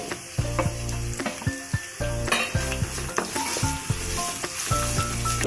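Onions sizzle in a pan for chicken kabsa while being sautéed, a loud continuous close sizzle broken by repeated rhythmic metallic scrapes and clanks of a spoon stirring against the pan.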